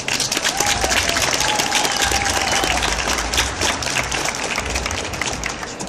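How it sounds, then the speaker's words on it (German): An audience at a Leipzig Book Fair convention applauds two Sailor Moon voice actresses, dense continuous clapping that holds steady throughout, with a faint voice briefly audible. "das ist ein Applaus wert."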